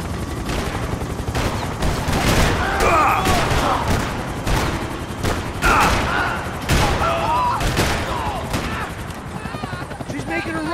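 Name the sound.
gunfire in the video game Max Payne 3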